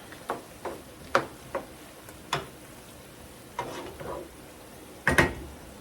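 Onion being stirred into a frying pan for New Mexico carne adovada, soft sizzling under a handful of sharp scraping and clinking strokes of a utensil against the pan, scattered and fairly quiet.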